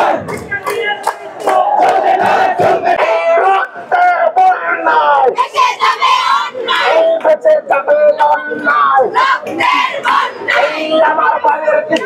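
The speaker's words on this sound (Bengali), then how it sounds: "পূর্ব ঘোষণা অনুযায়ী কলেজের শিক্ষার্থীরা খুব সুশৃঙ্খল ভাবে তাদের মিছিল নিয়ে যাচ্ছে মহাখালী আমতলির দিকে।" Titumir College students march in a procession toward the Amtali barricade in Mohakhali, Dhaka, a large crowd chanting loud rhythmic slogans in call-and-response bursts close by, with shouts and voices all around.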